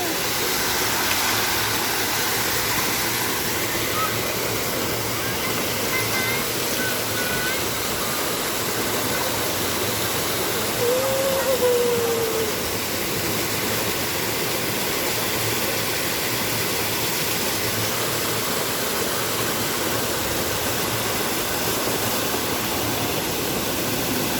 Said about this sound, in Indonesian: pagi ini aku lagi di air terjun Desa Pancakan Saga